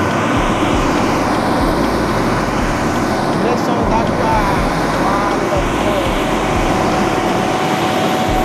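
Air Sénégal airliner engines droning loudly and steadily while passengers board the plane, a constant broadband roar with a faint whine, voices murmuring underneath.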